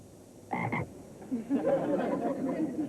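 A frog croaks twice in quick succession, loud and close, followed by a softer, rough chattering croak that continues over faint background noise.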